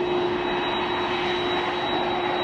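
A jet airliner approaches at Matsuyama Airport, a steady loud engine roar with a sustained whining tone running through it, close and continuous with no voices.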